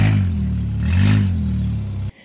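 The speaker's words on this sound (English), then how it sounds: "That is not the noise that I want my car to make, because I don't believe that a 2007 Honda Accord with 270-something thousand miles on it should sound like that" A 2007 Honda Accord with over 270,000 miles, its catalytic converter stolen, runs with a loud, rough, droning engine roar that swells briefly like a rev, then cuts off abruptly near the end.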